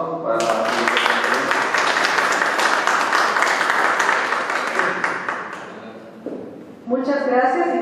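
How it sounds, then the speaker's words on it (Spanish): A conference audience applauds steadily and fairly close for about six seconds in a lecture hall, the clapping thinning out before a speaker starts talking. "les pido por favor un fuerte aplauso para la"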